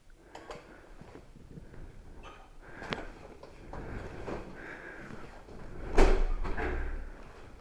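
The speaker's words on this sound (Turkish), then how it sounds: "Kapıyı açtım." A door opening during a contactless parcel delivery by a courier, a sharp bump at about six seconds over a quiet background, followed by a brief scrape.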